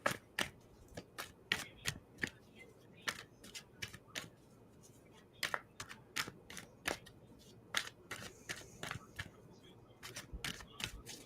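Tarot cards shuffled and handled during a reading at a haunted site in Scotland, with sharp, irregular card slaps and flicks close by over a quiet background and no speech.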